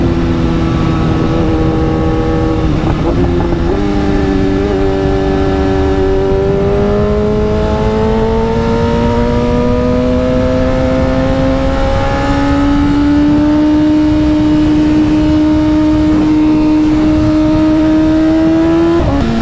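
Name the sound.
sport motorcycle engine revving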